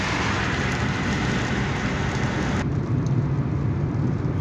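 Steady, dense hiss of rain beginning to fall on and around a car on the road between Makkah and Arafat, continuous and moderately loud, the sound changing slightly partway through.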